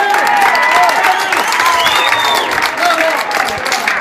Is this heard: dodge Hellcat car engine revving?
no